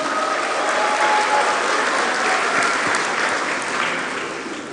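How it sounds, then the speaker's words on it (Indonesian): Audience applause fills a graduation ceremony hall: steady, dense clapping from a large crowd that holds throughout and eases slightly near the end. "Tepuk tangan untuk kita semua."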